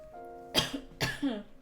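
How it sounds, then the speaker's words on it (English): Two short, harsh coughs close up, one right after the other, with a faint tonal hum before them. "I'm also starting to cough like the guy."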